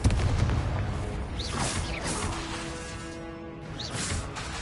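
A Confringo blasting spell goes off in Hogwarts Legacy, a whooshing cast followed by a booming burst, with softer magical swishes and fading rumble after, fairly quiet overall.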